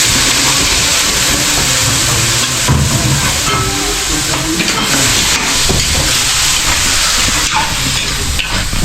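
Garlic and onions browning in a hot pan, giving a loud, steady sizzle and hiss with occasional stirring scrapes, close by and continuous without pause.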